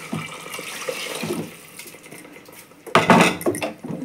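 Tamarind water is poured into a pan of fish kulambu (fish curry), with soft splashing and pan clatter at first, then a louder, closer burst of liquid hitting the hot pan and dish noise near the end.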